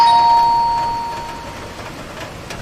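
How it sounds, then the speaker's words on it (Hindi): A doorbell chimes once with a clear ringing tone that slowly fades, heard alone over a faint background hum. "तभी अचानक से दरवाजे की घंटी ने"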